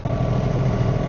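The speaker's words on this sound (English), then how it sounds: "I got the idle on the tractor way down" A John Deere tractor with a snow blower idles low and steady in snowy surroundings, its engine a loud, continuous close-up rumble heard from inside the tractor.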